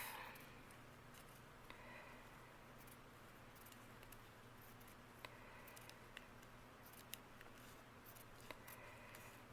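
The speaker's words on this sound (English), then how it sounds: "you want to go back to the beginning and cut that spiral in half" Scissors snip through a plastic sheet cut into a spiral, giving a series of faint, sparse clicks over a steady low background hum, with no voices.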